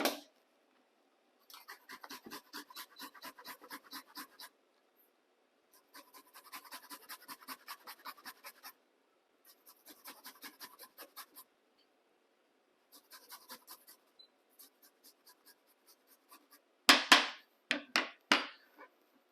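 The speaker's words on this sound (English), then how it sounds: "Now I'm just going to grate the ginger." Fresh ginger is rubbed against a kitchen grater in quick rhythmic bursts of scraping strokes separated by pauses, faint and close, with a few louder knocks near the end.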